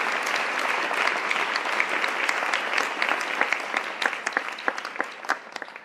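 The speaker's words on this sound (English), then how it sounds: "So another big round of applause again." Audience at an event giving a big round of applause, dense clapping from a large crowd that thins slightly toward the end, with a few sharper individual claps standing out.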